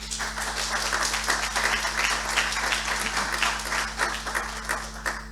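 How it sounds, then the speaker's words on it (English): Steady applause from an audience at an opening ceremony, dense clapping sustained throughout at a consistent loud level with a low hum underneath. "Give him an applause,"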